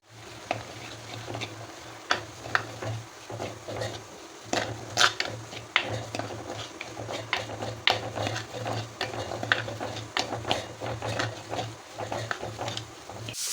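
Onion masala being stirred and fried in oil with turmeric and chili powder, a steady frying patter under repeated scraping and clinking strokes of a spoon against the pan, with a low constant hum throughout.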